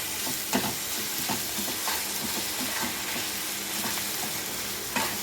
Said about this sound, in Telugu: ఈ అల్లం వెల్లుల్లి కూడా పచ్చి వాసన పోయేదాకా మొత్తం వేగిపోవాలి